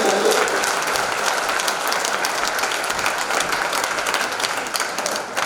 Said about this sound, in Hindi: एक बार जोर से ताली बजाओ ना।